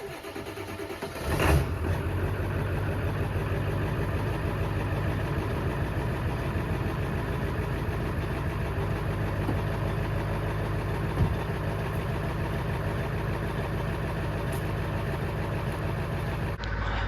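A Ford 7.3 Powerstroke diesel engine cranks briefly, fires up, and settles into a steady, loud, rumbling idle that continues for many seconds without speech.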